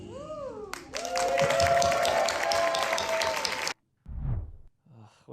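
Audience applause swells after a song ends, broad and fairly loud for several seconds with a sustained held tone beneath, then stops abruptly before brief scattered sounds.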